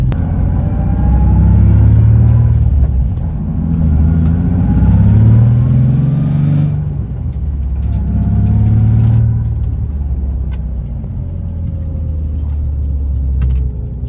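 A Nissan 350Z being worked on for faults drives with a loud, close engine rumble, surging through repeated revs and accelerations with pitch rising and falling, and no talk over it.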